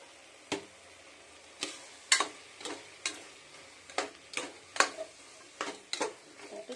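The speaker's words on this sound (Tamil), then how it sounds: "திரும்ப நல்லா ஃப்ரை பண்ணிட்டு" Vegetables for a simple vegetable rice frying in a pan, with about a dozen sharp scraping stir strokes against the metal over a soft, steady sizzle, close and fairly loud.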